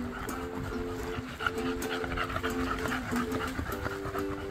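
Several dogs of a pack, bull-type breeds, panting rapidly and continuously in hot weather outdoors, close and steady with occasional soft whimpers mixed in.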